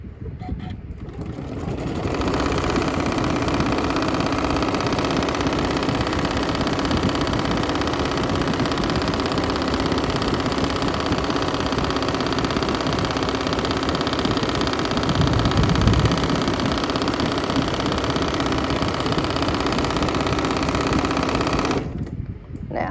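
A sewing machine stitches free-motion quilting on a T-shirt memory quilt, running as a steady, fast mechanical hum and rattle for about twenty seconds before stopping.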